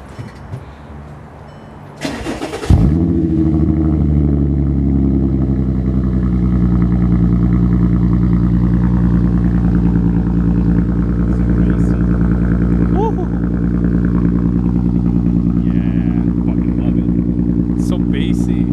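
A VR6 turbo engine cranks briefly, fires up, and then settles into a loud, deep, steady idle close by, holding a rich bassy drone for the rest of the clip.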